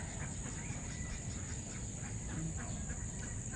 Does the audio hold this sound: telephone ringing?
no